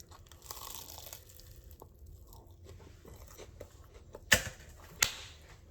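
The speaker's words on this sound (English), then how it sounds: "Listen to the crunch." Two sharp, loud crunches from bites into a homemade grilled cheese sandwich, roughly a second apart, standing out above a quiet background with soft rustling and chewing before them.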